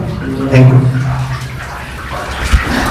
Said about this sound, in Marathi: तुम्ही बघू शकता या ठिकाणी जे पाणी वाहत आहे